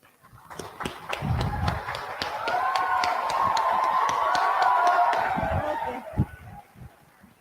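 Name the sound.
audience clapping at nursing conference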